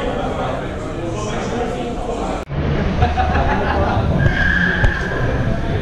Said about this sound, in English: We can hear some spinny out there wheels going on